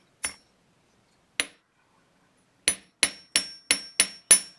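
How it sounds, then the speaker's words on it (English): A hammer lightly taps jewelry wire to work-harden it: two isolated clinking strikes, a pause, then six quicker metallic taps in a steady rhythm, close and crisp in a quiet room. "We're just going to strike lightly the first inch right here to harden it up."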